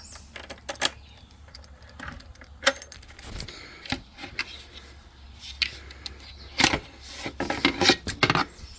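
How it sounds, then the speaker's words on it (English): A set of keys dangling from the cables of a PUCKIPUPPY 750W 48V 20Ah fat-tire e-bike jangles as the battery is removed, giving a string of close, irregular metallic clinks and rattles. "The keys to remove the battery are on the cables."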